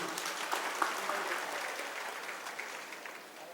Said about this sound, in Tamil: இதுக்கெல்லாம் ஒரு பலத்த கரகோஷங்களை நீங்கள் கொடுக்க வேண்டும்